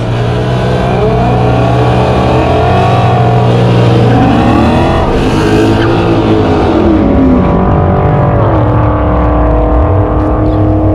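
The drag race car Chucky does a burnout at an NMRA event, a loud, continuous engine roar with rising and falling revs and tire screech that stays dense throughout before easing slightly near the end.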